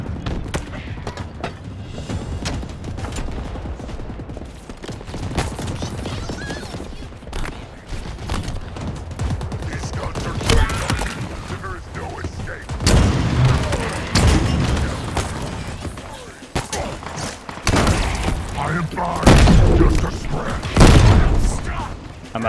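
Gunfire and booming blasts in the video game Halo Infinite during a fight with a Ravager, bursts of shots and heavy thumps building in intensity, mixed with talk.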